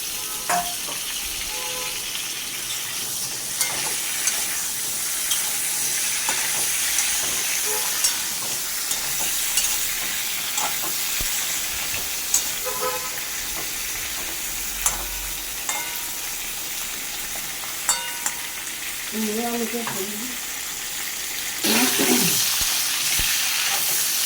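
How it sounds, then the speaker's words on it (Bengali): Potatoes and pumpkin frying in a pan, a steady close sizzle with intermittent crackles and stirring scrapes running throughout, with a brief faint voice near the end. "আলু আর কুমড়ো ভাজা হয়ে গেল, আর একটু হবে লাল লাল করে ভাজা।"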